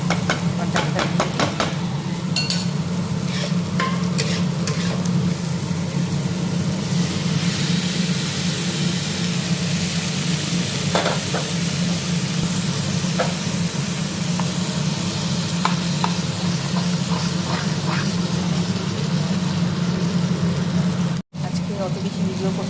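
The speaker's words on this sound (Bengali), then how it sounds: "এদিকে মাছ ভাজা বসিয়েছি" Fish, which the cook is about to steam as katla fish bhapa, fries in a pan on a home stove, giving a steady, loud sizzle throughout with scattered scraping and stirring clicks on top.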